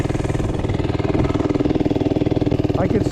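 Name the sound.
cheap Temu mini bike engine straining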